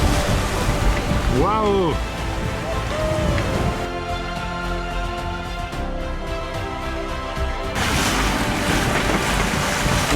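A sailboat surfs waves at sea at about seven knots, with loud rushing water and wind noise throughout and a person exclaiming briefly early on.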